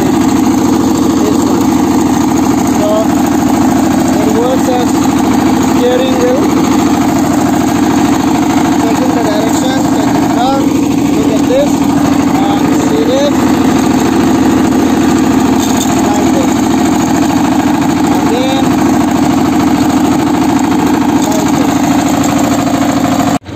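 A Kirloskar MegaT 15 power tiller engine runs while ploughing a field. It makes a steady, loud, close-up chugging drone that holds an even pitch throughout with little change.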